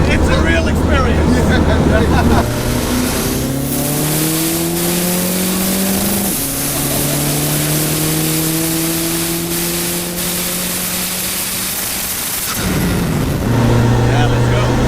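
A VW Corrado with a 1.9 TDI sequential turbo diesel accelerates hard, its loud engine climbing through rising gear pulls with brief shift drops, heard from inside the car under continuous chatter from the occupants.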